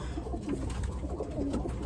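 Competition flying pigeons coo close up in a soft, low, burbling run, with several birds overlapping.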